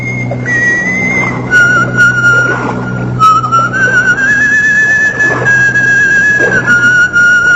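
Someone whistles a wavering, sustained tune close by, the pitch sliding up and down over a low steady hum.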